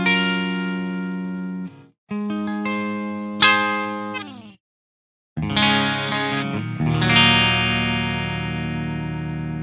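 Clean electric guitar through a McRocklin PolyChromeDSP with the bright switch on, compression and boost off: sustained chords ring out bright and harmonically rich, with a short silent gap between phrases, played alone.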